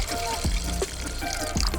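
Ration water pours from a container into a pot for cooking mee goreng noodles outdoors, a steady close trickle and splash running under a voice.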